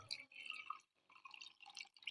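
Pepper water trickles and drips into freshly ground spices for a sardine curry, a faint, close liquid pour in short bursts with brief pauses between.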